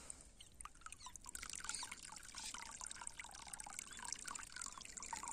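Irrigation water runs into a farm field, a steady continuous trickling and gurgling flow with small splashes, fairly close and even throughout, with no one speaking.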